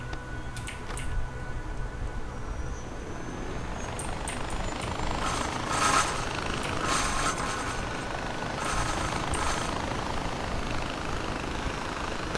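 Helicopter flying in the video game Far Cry 4, a steady whirring rumble that holds evenly for the whole stretch with no voices over it.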